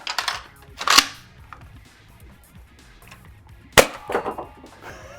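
A Nerf shotgun fires a shell holding eight half-length Worker Gen 3 heavy darts. Two loud, sharp snaps sound a few seconds apart, each followed by brief rattling and clatter, and the second crack is crisper and louder.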